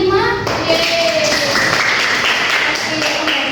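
Classroom applause from students at the close of a microteaching lesson, steady broadband clapping that fills the whole few seconds, with faint voices mixed in.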